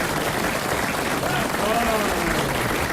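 Studio audience applause on a 1996 French radio comedy panel show, a steady wash of clapping throughout with voices talking over it.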